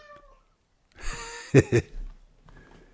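A house cat meows indoors, a drawn-out call followed by two short sharp meows close to the listener, then quiet.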